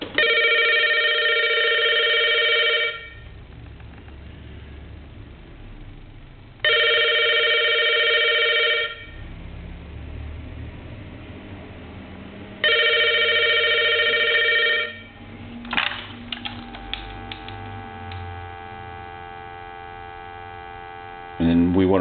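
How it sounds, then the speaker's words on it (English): An old Crosley wall telephone bell rings in three long, evenly spaced bursts over a low steady mains hum, then quieter clicks and tones follow. "We're going to ring it one more time and answer it."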